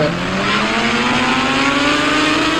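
A motorbike engine in an Indian bike video game revs steadily and loudly, a dense continuous roar with a slowly rising pitch and no pauses.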